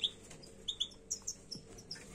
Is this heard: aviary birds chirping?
yes